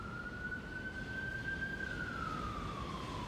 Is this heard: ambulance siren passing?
yes